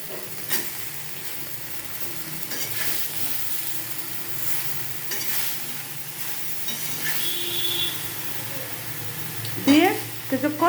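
Chopped bottle gourd leaves sizzle and hiss in a hot wok as they are stirred, a steady frying crackle throughout with brief scraping clatters near the end.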